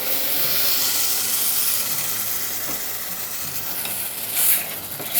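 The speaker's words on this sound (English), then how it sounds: "Now what we want to do is deglaze that pan a bit." Wine poured into a hot pan sizzles in a loud, close, steady hiss of steam and frying, with a brief scrape and a flare of louder sizzling near the end.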